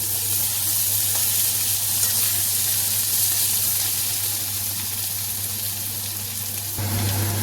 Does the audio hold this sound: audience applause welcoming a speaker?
no